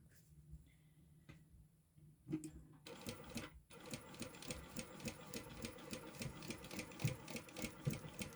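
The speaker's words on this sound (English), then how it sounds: "Okay, top stitch is done" A sewing machine top-stitches a sling bag, starting with a few isolated clicks and knocks before settling into a steady, fast rhythmic chatter of stitching that runs close and continuous to the end.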